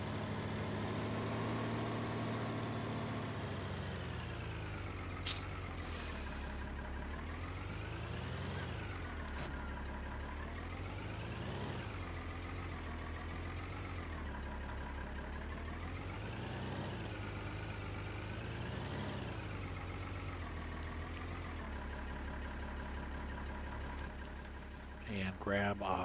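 A tractor engine idles steadily in Farming Simulator 19, a low continuous drone that swells and dips in pitch as someone talks over it almost throughout.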